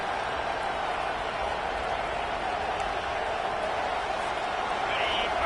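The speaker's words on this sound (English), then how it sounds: "This crowd bringing the energy and noise early." Football stadium crowd at an SEC college game roaring in a steady, dense wash of cheering and noise that stays loud throughout with no pauses.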